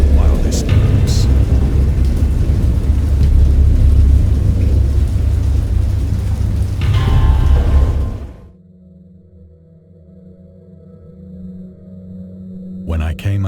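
A heavy thunderstorm from the game Dagon, with dense rain and rumbling thunder, roars for several seconds before cutting sharply to a quiet low hum.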